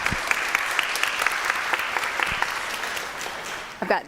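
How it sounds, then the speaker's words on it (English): A congregation applauds at an annual parish meeting. The clapping is steady and moderately close, with sharp individual claps standing out, and it tapers off at the end as a voice begins. "everybody, round of applause for Jonathan."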